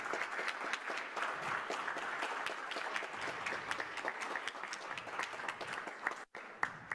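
A crowd gives loud, sustained applause for women honored at a panel discussion on women's leadership in Panama, dense clapping filling the whole stretch before briefly dropping out near the end.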